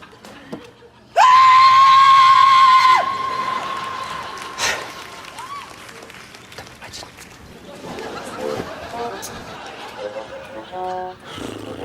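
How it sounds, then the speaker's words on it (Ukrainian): Inside a village shop, a person lets out one loud, sustained, steady-pitched scream lasting about two seconds, followed by quieter talking and background noise. "в тебе в магазині можна кричати?"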